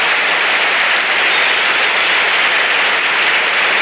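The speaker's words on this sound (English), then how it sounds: "The applause for the announcement" Stadium crowd applauding at the 1976 Montreal Olympics closing ceremony, a loud, dense and unbroken wash of clapping that holds steady throughout.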